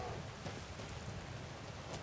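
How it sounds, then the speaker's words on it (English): Steady rain falls in a video game, a dense even hiss with low rumbling underneath, continuous and moderately loud throughout with no talking. "I hate it when it rains."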